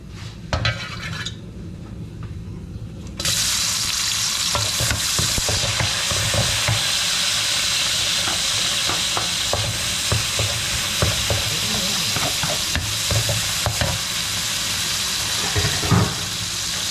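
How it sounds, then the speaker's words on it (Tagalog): Garlic, onion and tomato hit a pan with a little cooking oil after a quiet start. A steady close sizzle follows, broken by frequent stirring scrapes and clinks of a utensil against the pan. "Okay, una po natin gagawin, syempre, gigisa, lalagyan ng konting mantika."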